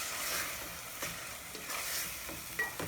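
Minced meat fries in a pan, producing a continuous bright hiss and crackle with occasional stirring scrapes, close and steady, with no voices.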